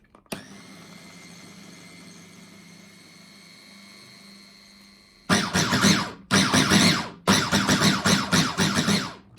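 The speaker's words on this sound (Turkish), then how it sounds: "iyice eriyip homojen hale gelene kadar karıştırıyoruz" A food processor whirs at high speed through banana ice cream mixture, first a quieter steady motor hum, then four loud surging bursts of blending with short pauses between them.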